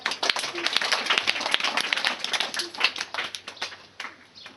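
A crowd at a school honours ceremony claps for a student award, a brisk run of fairly loud, close hand claps that gradually tapers off, with some voices underneath.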